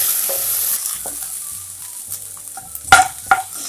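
Sliced potatoes sizzle and fry in a pan for aloo poha, with a spatula stirring and scraping through them and two sharper clatters near the end; no talking.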